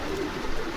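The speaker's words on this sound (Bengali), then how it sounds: "জি বিশাল বিশাল কবুতর।" Pigeons at a market selling fancy pigeons give a brief low coo over a steady background murmur, heard close and without speech.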